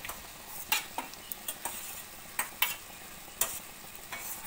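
Dosa batter balls drop into hot oil for homemade honey candy, setting off soft sizzling with a series of sharp clicks and scrapes from a ladle or spoon against the pan.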